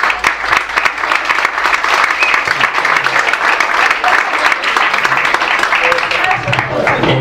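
Steady, dense applause from an audience at a talk, filling the room for several seconds with a voice heard faintly beneath it.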